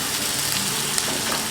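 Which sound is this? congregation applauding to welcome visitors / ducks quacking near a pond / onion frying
onion frying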